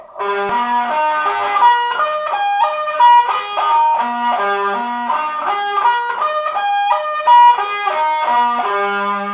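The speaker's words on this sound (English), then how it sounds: "So we're gonna start off basically with this arpeggio." A distorted electric guitar plays fast, rippling arpeggios in repeating patterns, notes flowing smoothly up and down with no voice present.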